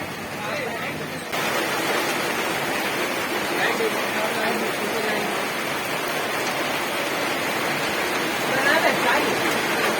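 Heavy rain pours steadily over a market and shop fronts, a dense continuous roar that grows a little louder after the first second, with voices faintly audible beneath it.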